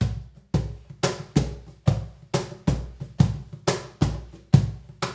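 A steady cajon groove of sharp slaps and deep thumps repeats in a syncopated pattern, close and punchy, with no voices.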